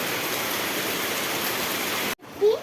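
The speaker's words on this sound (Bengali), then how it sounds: "এরকম বৃষ্টি শুরু হলো" Rain falling steadily at night around a home, a close, uniform rushing hiss that cuts off sharply near the end, followed by a brief faint sound.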